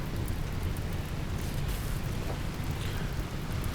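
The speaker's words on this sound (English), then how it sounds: "Rain! Rain!" Steady rain in RimWorld hisses evenly throughout, a dense unbroken wash of falling water with a low rumble underneath and no talking.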